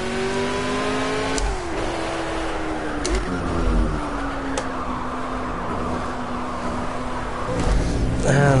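A Ford Mk IV race car in Project CARS roars loudly and steadily, its high engine note sliding down through several gear changes and rising again, with a burst of revving at the end.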